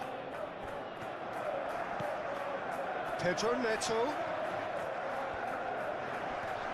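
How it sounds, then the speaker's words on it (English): A steady stadium crowd roars throughout a simulated Chelsea versus Manchester City Premier League match in PES 21, with a commentator speaking over it and a brief swell of cheering in the middle. "Now the crowd are demanding that they just finish this off."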